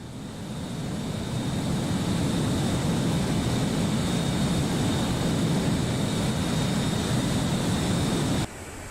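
Steady, loud roar of an F/A-18 Hornet fighter jet's engines in a flight simulator, a constant broadband rumble with a faint high whine, holding evenly throughout before dropping suddenly at the very end.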